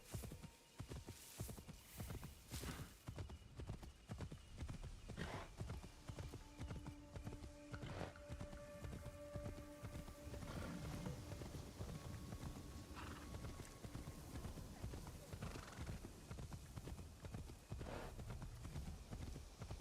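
A horse in Assassin's Creed Shadows gallops in a steady, rapid clip-clop rhythm that runs throughout, quiet and even, with faint ambient game sounds underneath.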